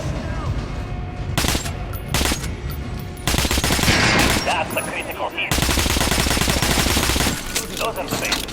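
Repeated gunfire at training dummies, including an armored one, in Metro: Last Light: long sustained automatic bursts split by short gaps and single loud shots, close and forceful, with no talking.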